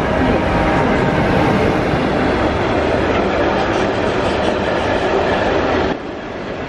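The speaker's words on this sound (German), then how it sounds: "Gleis 5, Einfahrt RE nach Frankfurt am Main Hauptbahnhof über Langenbrotzettel." A regional express train pulls into a station platform, a loud, steady roar of wheels and rail noise that holds for several seconds before dropping sharply in level near the end.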